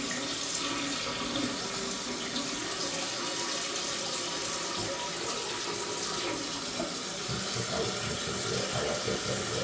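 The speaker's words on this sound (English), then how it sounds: "the water's filling back up at the level I would like it to" Water steadily refilling a toilet tank through a newly replaced fill valve, a continuous close hiss and trickle that runs unbroken for the full length with no talking.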